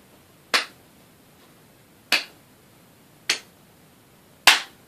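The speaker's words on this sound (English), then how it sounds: "So I want you to show me a hand clap and a toe tap" A child performs a hand-clap and toe-tap routine during a health assessment; four sharp, separate slaps land about a second apart, close and fairly loud in an otherwise quiet room.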